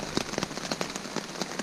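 Persistent rain patters onto a campsite during a Catskills backpacking trip, a dense close hiss of drops with irregular sharper taps on a nearby surface, steady and moderately loud with no voices.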